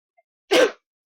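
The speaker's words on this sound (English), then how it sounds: "So I'm going to sneeze." A single short, sharp sneeze close up, with silence around it.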